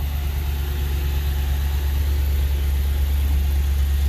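A 2010 Dodge Challenger SRT8 with a 6.1 liter Hemi V8 idling, a loud, steady deep rumble with a strong low throb and no voices.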